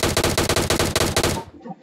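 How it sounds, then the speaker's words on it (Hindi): Rapid gunfire from the PUBG Mobile video game, the M24 sniper rifle named, a dense burst of about a dozen loud, close shots in quick rhythm that stops abruptly, followed by a faint tail. "M24 है, M24 चला रहा कोई"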